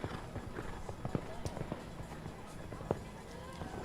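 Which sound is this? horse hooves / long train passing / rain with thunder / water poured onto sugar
horse hooves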